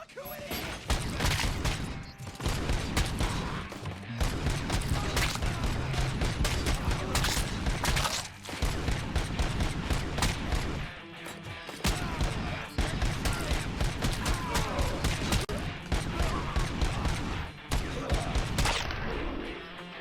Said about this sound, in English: Why are we in a gunfight in a VHS video rental store?